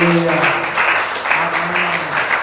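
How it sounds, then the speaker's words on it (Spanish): Church congregation clapping at a Spanish-language service, a continuous round of applause with a voice or tones sustained underneath, fairly loud and close. "Denle un aplauso si lo cree."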